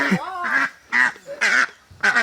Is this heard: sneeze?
no